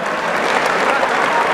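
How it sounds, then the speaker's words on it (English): A boxing crowd at an amateur bout in Manchester applauds both boxers after four rounds, producing loud, dense, continuous clapping that fills the whole short stretch. "round of applause please for both boxers"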